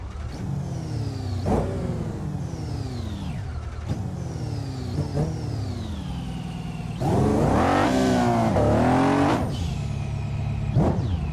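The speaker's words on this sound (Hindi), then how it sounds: "जेस्को का साउंड सुनते हैं अब।" Koenigsegg Jesko supercar engine in the BeamNG driving game, revving repeatedly in sharp rising and falling sweeps, with a longer, louder rev near the end; the engine plays alone.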